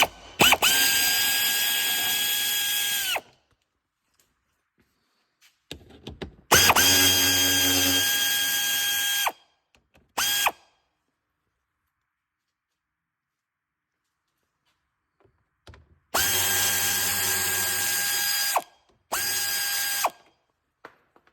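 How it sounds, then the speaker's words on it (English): Power tool removing 7 mm fasteners from the cradle frame of a 2005-10 Chevrolet Cobalt during a clutch replacement: four fairly loud, whirring ratcheting bursts of a few seconds each, separated by silent gaps, with no talking. "So we got a bunch of plastic clips and 7 millimeter fasteners"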